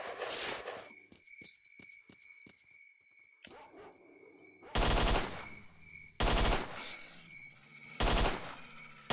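Pistol gunshots in the video game S.T.A.L.K.E.R.: Shadow of Chernobyl: three loud, sharp shots spaced a second or two apart, preceded by quieter clicks and footstep-like taps over a faint insect-like whine.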